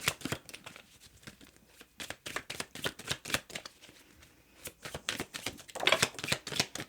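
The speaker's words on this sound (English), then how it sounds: "Let me keep shuffling." A deck of tarot cards is shuffled by hand in quick, crisp riffles and slides, close and fairly quiet, with irregular bursts of papery flicking and no talk.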